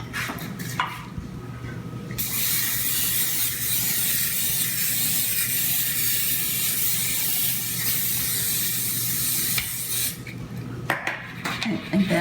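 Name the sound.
cooking spray on a pan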